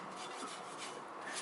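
Cotton cloth rubbing copper paste off Toyota Corolla front brake parts near the disc, a steady close rasping wipe with no voices.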